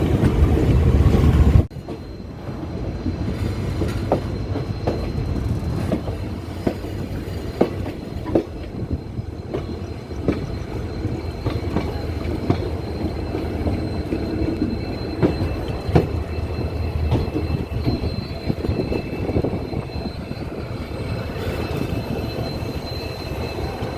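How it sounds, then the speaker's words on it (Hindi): The Barak Brahmaputra Express pulls out of Dimapur railway station at night, a steady rumble of the moving train with rhythmic wheel clicks on the rails throughout. "now we are departing from Dimapur railway station"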